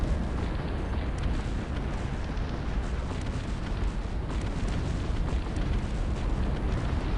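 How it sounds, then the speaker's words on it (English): Dense, continuous rumble of cannon and artillery fire trading back and forth between both sides in a Cossacks 3 2v2 battle, a steady wall of overlapping booms and blasts with no clear gaps. "Exchange from artillery shots from both teams."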